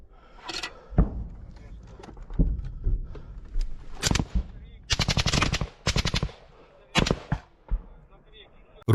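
Automatic rifle fire in a trench battle: loud, close bursts of rapid shots in several separate volleys, with single cracks between them and shouting voices in places.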